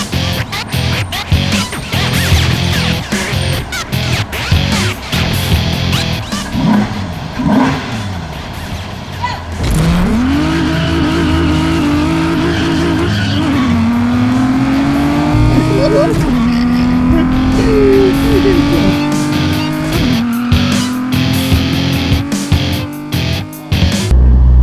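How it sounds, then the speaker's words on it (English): Street racing car sounds played through loudspeakers from a slowly moving car: revving engines, gear-change whines and tire squeals roll on continuously, loud and close, with people talking over them. "we use speakers to sound like we're street racing"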